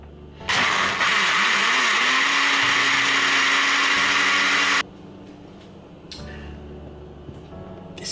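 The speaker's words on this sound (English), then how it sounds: "let's blend this bad boy up" A countertop blender whirs loudly for about four seconds, mixing a protein shake with almond milk, then cuts off abruptly, leaving a quieter room.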